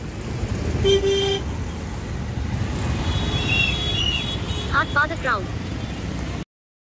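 Busy road traffic during Ganesh Chaturthi rumbles steadily while car horns toot several times, a short honk early on and a cluster of quick beeps later, with voices mixed in.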